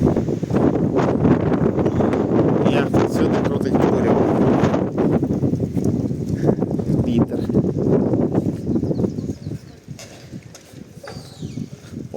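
Strong storm wind in a town centre, roaring and buffeting against the microphone as loud, continuous gusty rumble that eases slightly near the end.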